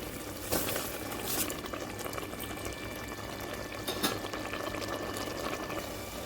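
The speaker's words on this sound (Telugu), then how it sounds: "ఇప్పుడు ఈ గ్లాసు త్రీ గ్లాసెస్ వాటర్ అయితే యాడ్ చేసుకున్నాం" Rice and three glasses of water go into a pot for a simple egg biryani, giving a steady, fairly quiet bubbling and pouring wash with a few brief splashes and no talk.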